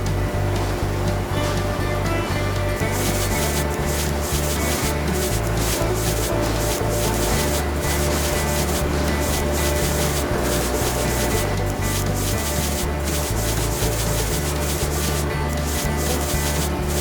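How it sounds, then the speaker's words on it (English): A car is scrubbed with soap in a continuous, loud, rhythmic rubbing and swishing that runs without a break, with no talking. "Next, the car needs to be cleaned with soap."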